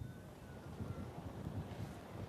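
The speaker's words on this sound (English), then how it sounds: "it's very windy down here" Wind batters an outdoor microphone on the seafront at Clacton, giving a steady, low, buffeting rumble that is quiet but fills the whole short stretch, with no clear voices.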